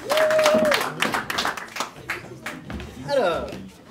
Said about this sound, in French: Encore plus, applaudissez.